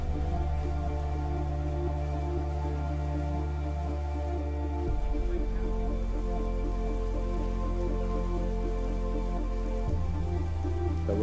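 Rain pours steadily in an indoor rain room art installation, a dense even patter alongside low tonal hum, with no voices.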